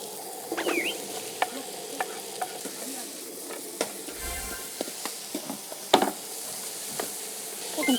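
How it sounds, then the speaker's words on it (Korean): Japchae glass noodles stir-fried in a pan: a continuous close sizzle punctuated by scattered clicks and scrapes of a utensil tossing the noodles, with a sharper clatter near the end. "나도 이거 잡채 볶을게"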